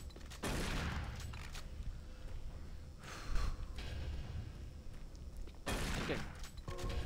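Shotgun blasts in the Doom 3 video game, loud booming bursts at the start and again near the end, with dense gunfire-like noise and game ambience filling the middle.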